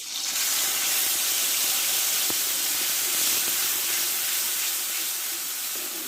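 Ginger paste and tomato paste with whole cumin seeds fry in hot oil in a pan, making a steady close sizzling hiss that runs unbroken throughout.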